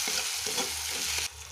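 Chili paste and cumin paste are stirred into softened tomato in a hot pan, with a close, continuous sizzle and soft scraping strokes that break off sharply near the end.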